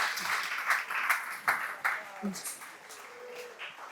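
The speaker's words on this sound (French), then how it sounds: "On peut se mettre debout et applaudir Jésus." Audience at a youth camp gathering applauding together, a steady broad patter of many hands clapping close by, with scattered voices and speech mixed in.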